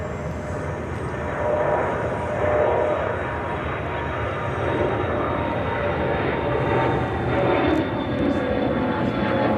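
A Frontier Airlines jet at Chicago O'Hare gives a broad steady roar at moderate distance, swelling slightly and holding for several seconds with no voices.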